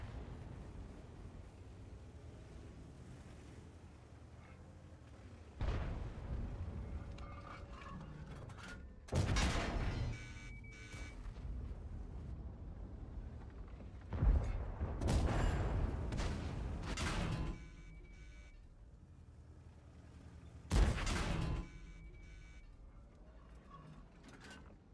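Tank cannon firing in a tank video game, several separate booming shots spaced across the stretch with quieter game rumble between them, heard alone without voices.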